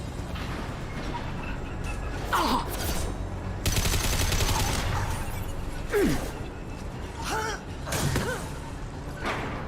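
Bursts of gunfire in the video game Mass Effect 2, played on Insanity as an Engineer, cracking out in scattered volleys over a steady din of combat noise, with a few whooshing effects between shots.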